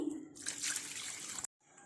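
Water pours steadily into a pot of egg curry with ridge gourd, a bright splashing gush, close up, then stops abruptly and a faint bubbling follows.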